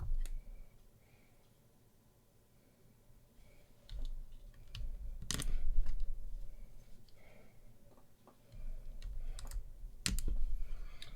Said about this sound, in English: I bet this is going to sound really mellow,